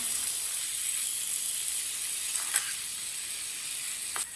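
Cucumbers cook in a hot pan for an Eid salad, a steady hissing sizzle throughout with a couple of faint stirring clicks, no voices.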